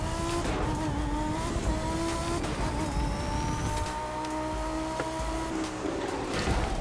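A car in The Crew 2 racing game drives with a steady, loud engine tone that rises and shifts through gears, with tire squeal and skidding layered over the continuous roar.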